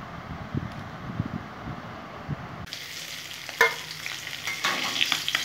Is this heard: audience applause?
no